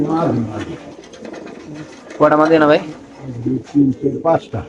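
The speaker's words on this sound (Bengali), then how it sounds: "এখানে আছে কিছু কবুতর উপরে দেখতে পাচ্ছেন আপনারা" Racer pigeons kept for sale give soft cooing beneath loud, close male conversation between buyer and seller, the birds' murmurs surfacing in gaps between the voices.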